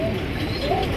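A pigeon cooing close by at a pigeon market, a short low throaty coo over a busy background.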